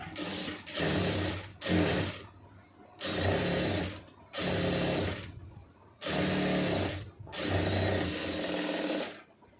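A sewing machine stitches a pencil-fit garment, sewing a folded second seam in about six loud, close bursts of steady whirring separated by short pauses.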